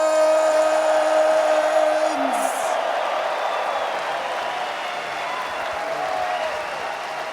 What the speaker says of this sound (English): make one more round of applause for your TI 14 champions